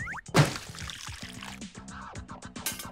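Liquid gulped down in a few wet swallows and plops, mixed with a short burst of cartoon sound effects, all close and brief.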